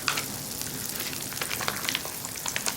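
An already cooked salmon fillet reheats in a camp pan, giving a close, steady, crackling sizzle with dense spitting pops throughout.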